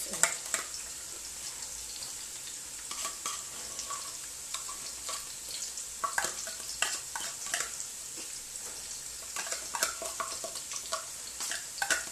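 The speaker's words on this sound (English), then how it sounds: "allow this to fry for some minutes" Tomato paste fries in a pot for a fish stew, giving a steady bright sizzle with scattered crackles and spatters. It stays close and continuous throughout, with no one talking.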